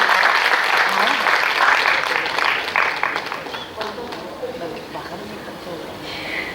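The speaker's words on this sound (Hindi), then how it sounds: "एक बार जोरदार तालियां उनके लिए।" Audience at a Hindi theatre play about Samrat Ashoka, staged at a multilingual drama festival in Bhilai, bursts into dense, loud applause that holds for several seconds, then fades under a person speaking.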